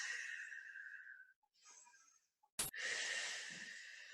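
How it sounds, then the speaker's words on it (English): Slow, deep breaths taken during a standing stretching exercise: long airy inhales and exhales with short pauses between them and a single sharp click partway through, close and fairly quiet. "just take a few breaths"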